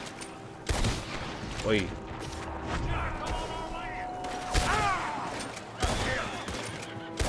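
Gunfight in the video game Red Dead Redemption 2, with repeated sharp gunshots cracking out at irregular intervals over game sound and music while someone speaks briefly.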